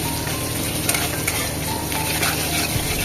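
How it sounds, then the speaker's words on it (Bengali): Onions frying for biryani beresta in a home kitchen, a steady close sizzle with faint stirring scrapes running throughout, no talking. "আমি বেরেস্তার দিকে একটু পেঁয়াজ ভাজ লইতেছি"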